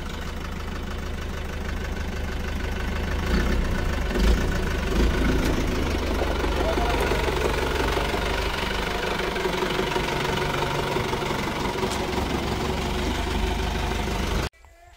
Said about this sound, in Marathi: या गाडीचा आवाज ऐकताना लय भारी वाटतो